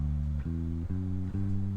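A deep, steady bass guitar line, EQ only, playing sustained low notes that change pitch every half second or so, clean and solo.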